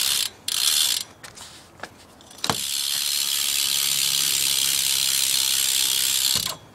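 Freewheel ratchet of a BMX bike's Haro rear hub, with Primo drive set and gold spokes, clicking loudly and steadily at close range for several seconds after a brief pause, with a few scattered knocks.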